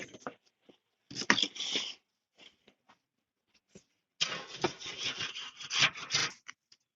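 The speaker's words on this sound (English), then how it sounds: "I'm going to scrub that grate." Brush scrubbing the metal grill grate of a Weber Smokey Mountain smoker, with two bursts of rough rasping strokes separated by a few scattered scrapes and taps, close up.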